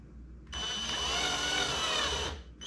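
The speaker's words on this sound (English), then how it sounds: "I'm drilling." Power drill driving a screw while decorating a tiny home: a steady, loud whirring drone that starts abruptly, runs for about two seconds and cuts off, with no talk during it.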